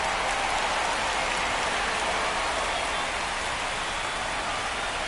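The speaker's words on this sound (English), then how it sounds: "the field's not going to be able to hold up if the rain gets any worse than this" Rain pours steadily over a ballpark in MLB The Show 25, a dense, even hiss that holds constant for five seconds, moderately quiet with no voices.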